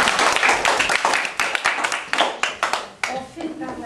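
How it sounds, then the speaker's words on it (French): An audience of students claps for a classmate's presentation on Peru, a loud burst of close hand claps that thins into scattered claps and fades, with faint talk underneath. "On lui donne un autre main d'applaudissement"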